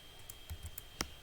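A few sparse keystrokes on a computer keyboard, quiet and close, with isolated clicks spaced irregularly and one sharper tap near the end, no voices.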